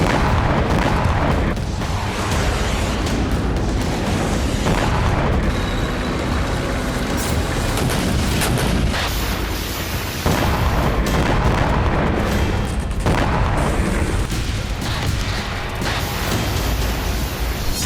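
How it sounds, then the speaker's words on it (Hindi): Heavy artillery shelling by the Russian army in Donetsk during the Russia-Ukraine war: a dense, continuous rumble of booms and blasts that fills the whole stretch at high level, with no speech. "रूसी सेना यूक्रेन की धरती पर एक साथ कई मोर्चों पर भीषण बमबारी कर रही है।"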